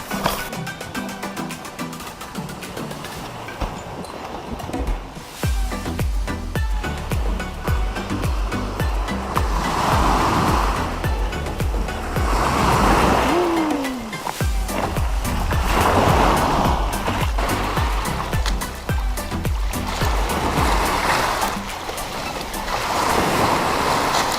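Sea waves wash onto the shore in a steady roar with periodic swells, heavy wind buffeting the microphone throughout.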